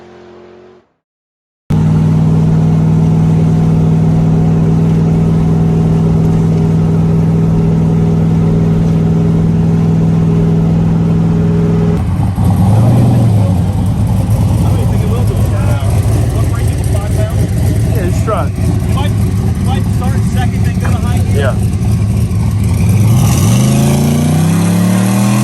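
Street-testing cars rev hard and make loud passes, a steady engine drone building into a sharp rising rev burst near the end, with people talking underneath.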